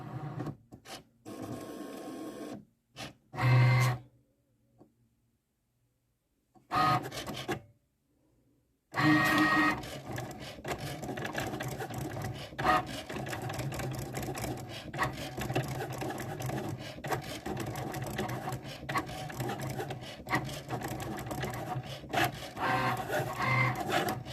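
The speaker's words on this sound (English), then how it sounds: "the button is flashing, so we're just going to hit go, and it should load through and start to cut" A Cricut Maker 4 cutting machine loads its mat and cuts, giving a steady mechanical whirring and rasping that runs continuously at close range after a few short starts and pauses.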